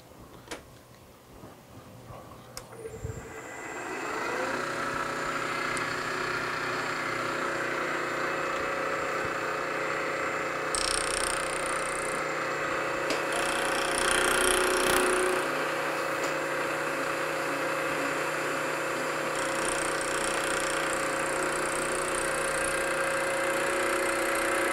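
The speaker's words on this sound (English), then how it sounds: "Now I'm running my fly cutter there at 1850 RPM, roughly. This is my Don Cossett fly cutter." A Don Cossett fly cutter spinning at about 1850 RPM on a machine while cutting the base of a model steam engine: a steady mechanical whine and hum that starts after a few clicks and runs continuously, with intermittent brighter scraping bursts as it cuts.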